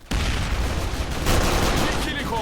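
Dense, loud gunfire rattles on without a break in a shooter video game, a continuous barrage of rapid shots that briefly swells louder midway.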